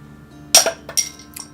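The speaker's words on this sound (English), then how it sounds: "let's crack this open with the 50 cal bottle opener" A beer bottle, a Belgian dubbel, is cracked open with a .50 caliber bullet-shaped bottle opener, giving a few sharp metallic clinks and a bright cap pop in close, quiet surroundings.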